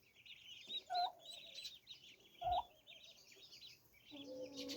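Chickens clucking in a farm setting, a few loud close clucks and squawks over a steady chorus of higher bird chatter, with no talking.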